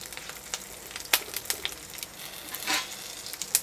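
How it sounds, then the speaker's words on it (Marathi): Onions sautéing in a pan for South Indian sambar, a soft sizzle with scattered crackles and pops, faint and close, with no talking. "कांदे छान परतून घ्यायचे."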